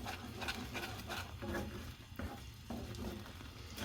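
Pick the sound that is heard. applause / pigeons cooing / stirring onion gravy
stirring onion gravy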